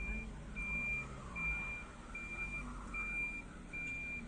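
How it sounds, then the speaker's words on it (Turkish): A car's turn signal sounds as a steady repeating electronic tone over low road and engine rumble inside the moving vehicle, about six evenly timed pulses. "Ablam sinyali kapatabilirsin hayatım."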